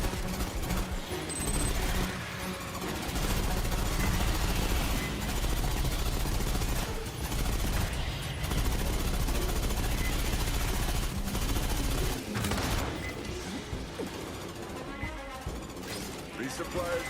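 Rapid automatic gunfire from the Aliens: Fireteam Elite 2 video game rattles in long, dense, loud bursts mixed with other game noise, while a voice speaks intermittently over it.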